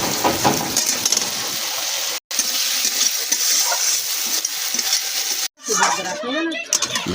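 Dried fish (shukhua) fries in hot oil, a dense close sizzle with stirring scrapes and a couple of sudden breaks, while someone speaks over it.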